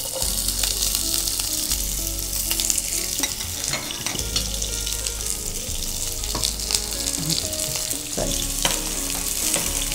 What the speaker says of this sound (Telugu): ఇందులో ఫస్ట్ ఉల్లిపాయలు వేసుకుందాం.